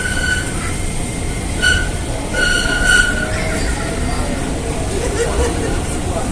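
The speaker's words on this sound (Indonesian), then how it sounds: "biar kereta kita masuk di stasiun Jakarta Kota" A commuter train running into Jakarta Kota station, with a constant rumble of wheels on track and several short, sharp wheel squeals, heard from inside among faint background chatter.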